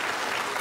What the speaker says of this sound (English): Let's give the Vice-Chancellor a round of applause